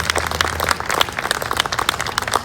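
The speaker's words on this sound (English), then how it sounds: "Can we give a round of applause for JD, please?" A crowd applauds at an outdoor recreation announcement for a skatepark in Reading, dense overlapping clapping from a group, brisk and steady for a couple of seconds.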